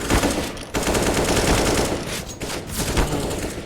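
Pistol fire during a close-range CS:GO match: a near-continuous barrage of sharp gunshots from several weapons, with brief lulls, loud and busy, with no talking.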